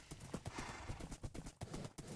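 A horse trots along in Minecraft, its hooves making a steady, rhythmic clip-clop, moderately close and alone without talk.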